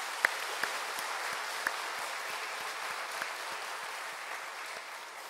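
A church congregation claps together in steady, dense applause at a worship service, with a few sharper individual claps standing out near the start, holding at an even level throughout.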